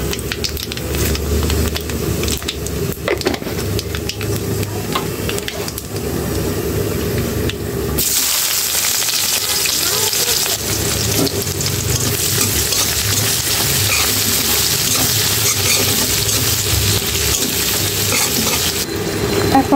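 Nigella seeds hit hot oil in a pan where fish was just fried, giving a loud, close crackling sizzle that surges into a broader spitting hiss midway and keeps going steadily.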